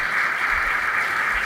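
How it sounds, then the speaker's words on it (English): An audience at a hall of fame induction ceremony applauds in a steady, dense wash of clapping with no voices over it. "we should give them another round of applause"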